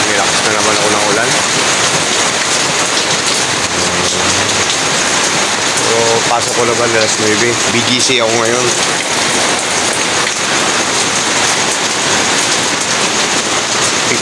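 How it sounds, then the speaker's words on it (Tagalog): Heavy typhoon rain falls steadily on an urban street in the BGC area, a loud continuous wash that runs the full length while someone speaks over it. "Nilakas na naman ako ng ulan."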